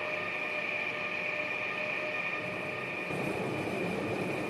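A second train arriving in the Indian train simulator RG Train-Tech Demo, a steady loud rail rumble with sustained metallic wheel tones and faint clatter, continuous throughout with no voices.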